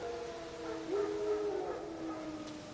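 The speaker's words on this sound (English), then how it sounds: "No. Wild dogs." Wild dogs howl in The Witcher 3, a few overlapping drawn-out wavering howls at moderate distance over a low ambient background.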